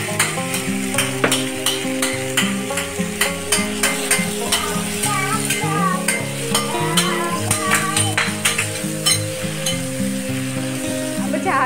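Tomato is stirred into a sizzling mushroom biryani base, with a steady frying hiss and repeated rhythmic scraping and tapping of a spoon against the pan, close and loud, over music in the background.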